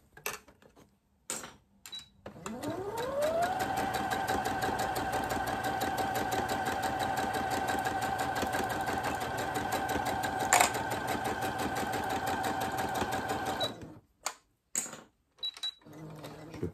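A sewing machine stitching fabric, its motor spinning up into one long steady run before stopping, preceded and followed by a few quick short bursts and handling taps.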